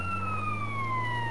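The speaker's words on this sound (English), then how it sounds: "And see, now you got your siren." A sustained siren wail in GTA San Andreas, slowly falling in pitch over a low steady engine drone, sounding near and steady.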